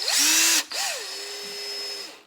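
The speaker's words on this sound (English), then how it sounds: "That's a drill. It's got a little Phillips head screwdriver on the end." An electric drill fitted with a Phillips head screwdriver bit whirs in two close, loud bursts, the motor pitch rising at each start and winding down at the end, with no talking.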